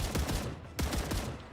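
Light machine gun firing in a video game: two rapid automatic bursts of heavy, evenly spaced shots, loud and close, separated by a short pause, with no voices.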